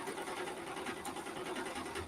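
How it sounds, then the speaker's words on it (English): Steady mechanical whir and hum of a home washing machine running, continuous and moderately loud with a faint rhythmic churn, no talk over it. "Sorry, that's my washer again."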